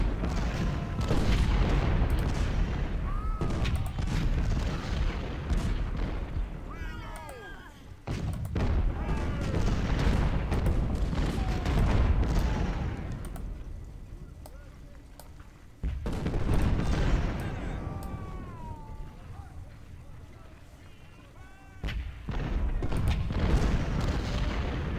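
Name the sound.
rifled artillery fire in video game Ultimate General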